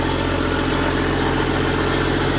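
2021 Toyota Supra engine fitted with a new downpipe and air intake, idling nearby with a loud, steady low rumble and a constant droning hum, no voices.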